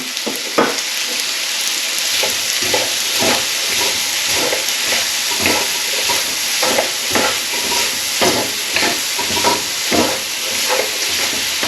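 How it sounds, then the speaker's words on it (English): Spicy chicken udon noodles and spring onions are stirred in a hot pan, a loud constant sizzle and hiss with rhythmic scraping strokes repeating about every second, without speech. "keep giving this a stir around"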